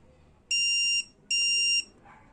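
Two long, steady electronic beeps, close and clear, each lasting about half a second with a short gap between them as a portable battery-powered spot welder for 18650 lithium cells powers off.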